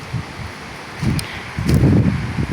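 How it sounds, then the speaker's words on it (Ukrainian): Steady wind buffeting the microphone with rustling leaves, gusting stronger toward the end. "Якби ще вітрюгана не було."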